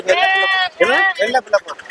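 A Kodi goat bleats at a busy goat market in Puthiyamputhur, giving a loud, wavering, nasal cry followed by a few shorter broken bleats close by.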